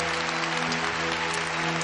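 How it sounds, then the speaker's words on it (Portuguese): A church congregation applauds after a sermon, a dense, steady wash of clapping that fills the short clip at an even level with no voices over it. "Pode aplaudir o Senhor."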